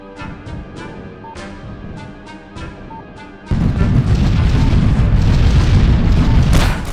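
Explosions in the trench warfare game Tablet Tyrant: Trenches II: a series of sharp booms gives way to a loud, sustained rumbling barrage that stays dense to the end, with no talk.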